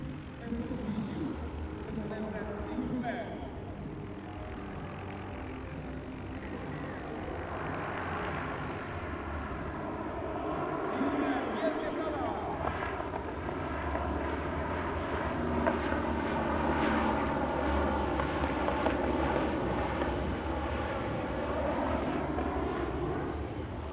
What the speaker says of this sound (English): the aircraft approaches on the B-axis out in front of us, bunts, and then turns off to our left